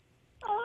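A human voice imitates a small cat meowing inside a wall, giving one short, thin, rising-and-falling meow that starts abruptly after near silence.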